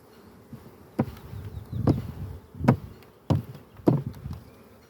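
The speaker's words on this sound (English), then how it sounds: "Now the flying bees will go back to their original side." Honey bees buzz around an opened hive during an inspection, with a low droning hum and several sharp knocks from frames or a hive tool, spaced about a second apart.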